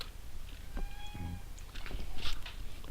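A cat in the video game Minecraft meows in short tonal cries partway through, set against a low background hum with no talking.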